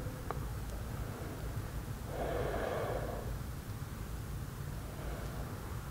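A slow, quiet breath during a beginner yoga pose: one soft, airy exhale swells for about a second in the middle, set against a low steady background hum.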